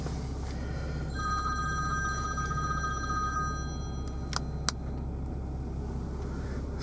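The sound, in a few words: phone ringing in a car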